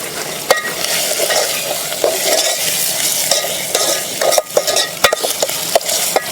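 Pieces of country chicken sizzle loudly in a hot pan while a spoon scrapes and stirs them, steady frying hiss broken by clanks of metal against the pan, close and with no talking.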